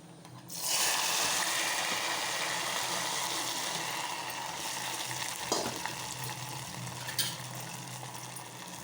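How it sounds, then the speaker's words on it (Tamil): Cashew nuts are fried in a pan while making pongal. A sudden loud sizzle breaks out and then settles into steady bubbling and crackling, with a couple of brief stirring knocks. "இப்போ முந்திரி பருப்பை போட்டு அதில் பொரித்து அதில் போட்டுடலாம்"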